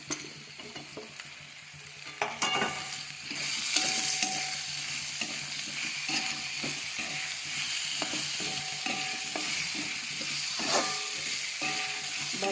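Potatoes fry in a pan for a Kolhapuri-style soya chunk and potato dish, giving a steady loud sizzle with repeated scraping and stirring clatter throughout.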